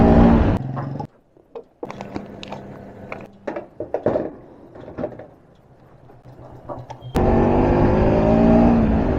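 A Bajaj Pulsar NS 200 BS3 motorcycle is ridden on a road toward Yallapur, with a steady, loud engine and wind roar at the start and the end, and quieter, clattering, uneven mechanical noise in the middle.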